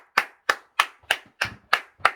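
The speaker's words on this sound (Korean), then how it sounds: "그러면 주님께 우리 박수 한번 해야지." A congregation at a Korean early-morning church service claps in seven slow, evenly spaced beats, sharp and close, with no talking.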